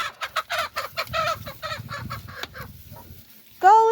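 Several chickens cluck in a quick, close burst of rapid, irregular calls that fade into quieter murmurs, ending with one loud, drawn-out squawk.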